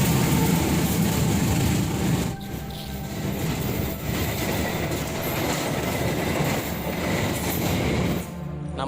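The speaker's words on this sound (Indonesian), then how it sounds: "soalnya emang ada kereta yang lewat" A train rolls past in an eerie corridor in east Bandung, a steady loud rumble of wheels and rail clatter filling the whole stretch before easing off near the end.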